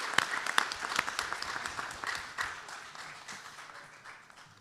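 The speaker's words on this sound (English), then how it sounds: "So I'd also like to give a round of applause for staff." An audience at a city's State of the City event claps for staff, a full burst of applause with a few sharp nearby claps at the start, steady through the middle and slowly tapering off.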